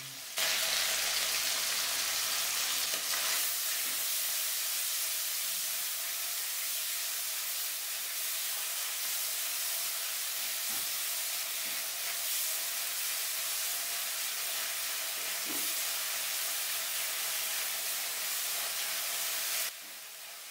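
Onions sizzle steadily in a hot pan for restaurant-style mixed fried rice, a loud continuous hiss of frying that holds for about twenty seconds before dropping off at the end, with no talking.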